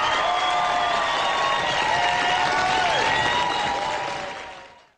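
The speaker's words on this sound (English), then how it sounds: "Let's give these guys a round of applause," Applause at a live trading-show broadcast: steady, dense clapping blended with sustained tonal whistle-like sounds, staying loud for about four seconds before fading out.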